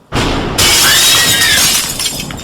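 A glass kitchen window shatters in one loud crash, a sharp impact quickly bursting into bright splintering shards that ring and scatter before fading.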